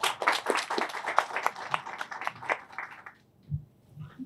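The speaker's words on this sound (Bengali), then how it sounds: "মাল্টিমিডিয়া রিপোর্টার্স অ্যাসোসিয়েশনকে আমরা সবাই একসাথে আমরা হাততালি দিই।" Audience applause at a press gathering honouring a multimedia reporters' association: dense, close clapping for about three seconds that then breaks off, leaving a few soft low thumps and murmurs.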